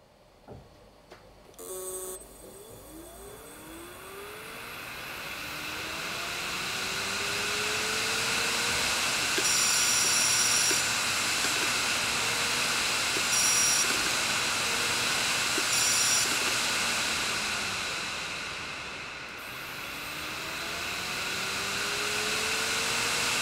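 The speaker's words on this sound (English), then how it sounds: "I thought it might be interesting to see and hear it spin up for the final time" An uncovered hard drive spins up from rest, its whine rising in pitch and settling into a steady loud hum, with faint ticking from the drive mechanism and no talking.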